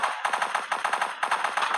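Rapid automatic gunfire from the video game Frontline Heroes, sustained bursts of machine-gun fire in quick rhythmic volleys, loud and close with a brief gap mid-burst, no talk.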